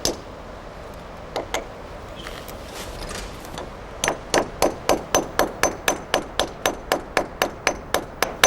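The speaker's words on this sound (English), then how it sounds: "When the pin is hammered in, the inner part of the device expands and fastens securely in the concrete." Hammer driving a pin into an expanding anchor set in a concrete wall: a few scattered blows, then a steady run of about eighteen sharp, ringing metallic strikes in even rhythm, close and loud, with no talking.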